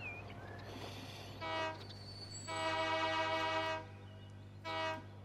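A train in the video game Transport Fever 2 gives repeated horn-like tonal blasts, a short one then two longer ones, over a steady low rumble, with no talking.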